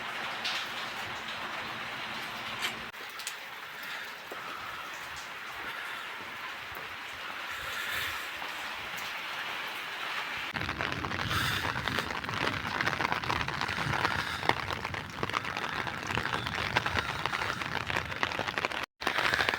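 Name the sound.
rain falling outside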